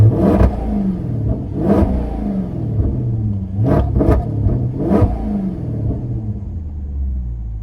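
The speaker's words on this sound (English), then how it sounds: "Now if I click the sport button, the valves open." A Maserati GranTurismo S engine, exhaust valves open in sport mode, revs repeatedly in sharp bursts with loud exhaust crackle, rising and falling over a steady deep rumble, close by.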